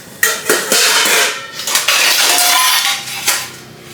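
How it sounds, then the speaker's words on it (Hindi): Dishes, pots and cutlery clatter and clink in quick succession as they are hurriedly put away in a home kitchen, a steady run of close, bright impacts with no talking. "मैं जल्दी से बर्तन लगा रही हूँ।"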